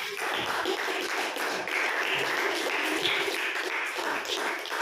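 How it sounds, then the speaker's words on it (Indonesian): Classroom applause from students at the end of a lesson, a steady wash of many hands clapping at moderate level throughout, with no talk over it. "tepuk tangan untuk kita semua"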